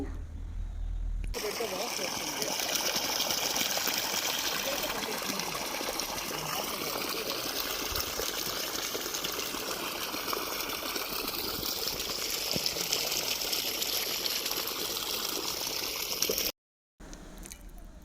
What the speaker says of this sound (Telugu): ఇక్కడ మామూలుగా పొలంలో నీళ్ళు పోతున్నాయి అనమాట